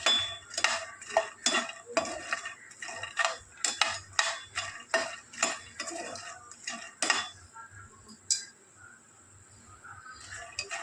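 A metal spoon scrapes and clanks rhythmically against a pan as makhana (fox nuts) roast in ghee, loud close strokes roughly every half second, with a faint sizzle underneath and no talking.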